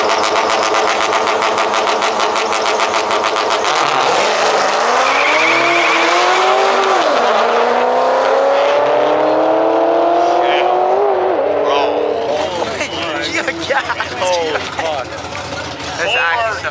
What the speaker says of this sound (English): in the back, we found a drag race event